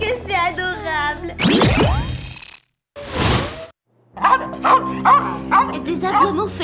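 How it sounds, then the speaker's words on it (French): A cartoon dog in Totally Spies barks fiercely in a few sharp yaps, mixed with speech and a short burst of other cartoon sound effects. "Des aboiements féroces sont parfois pires."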